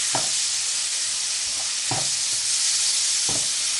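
Chicken chettinad with tomatoes and turmeric frying in a pan, a steady close sizzle broken by several sharp scrape-and-stir strokes at an uneven pace, with no voices.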